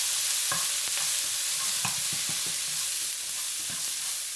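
Fried rice ingredients with minced garlic for beef fried rice are stirred in a hot pan, a constant bright sizzle under repeated close spatula scrapes and knocks at an uneven rhythm.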